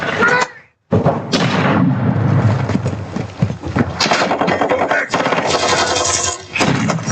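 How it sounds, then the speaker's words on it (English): A Semtex grenade blast and bursts of gunfire in Call of Duty, loud sharp explosive hits and rapid shots crowding a busy game soundscape, with a short silent gap near the start. "Semtex incoming."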